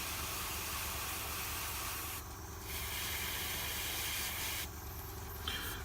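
An airbrush spraying paint onto the bolter of a Blood Angel miniature, giving a steady close hiss with two short pauses between bursts.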